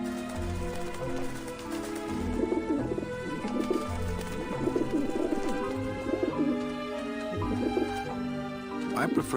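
Pigeons coo in repeated bursts in the video game Grim Fandango, close and prominent over a steady layered game background with tonal music.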